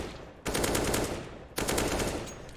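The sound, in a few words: gunfire from a first-person shooter video game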